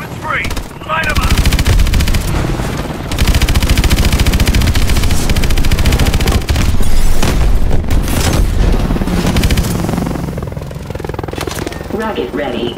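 Rapid automatic gunfire and heavy explosions from the Call of Duty: Advanced Warfare mission "Terminus" rattle continuously in a loud, dense battle mix, with voices calling out over the shooting.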